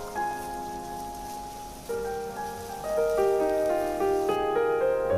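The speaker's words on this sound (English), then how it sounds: "Fry it for few seconds." Finely chopped onion fries in a pan with a soft, continuous sizzle under a melodic music track.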